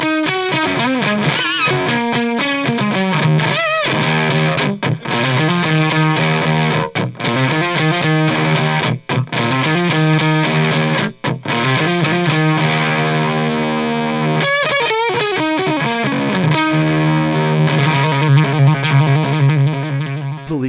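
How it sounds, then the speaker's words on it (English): Distorted electric guitar run through a Leech pedal placed after a Tubescreamer, giving an octave-like fuzzy tone; sustained chords and riffs play continuously and loud, with brief gaps between phrases and no talking. "Here is an almost Octave-like sound created this way,"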